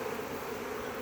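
Honeybees from a package being installed in cold weather, a steady close buzzing hum from many bees that runs without a break.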